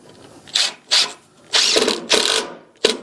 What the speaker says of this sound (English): I'm going to pre-drill a hole with the countersink head